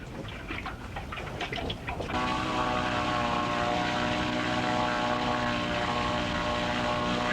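A propeller plane's engine, heard near and steady, starts with choppy noise and then settles into a sustained droning hum with strong harmonic tones at a remote river gorge in the Kimberley.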